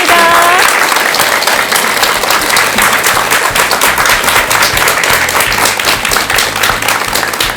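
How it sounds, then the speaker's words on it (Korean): An audience at a talk by a Buddhist monk applauds loudly and steadily, many hands clapping together in a dense, sustained roar. A brief voice is heard at the very start. "여러분 큰 박수 한번 부탁드리겠습니다"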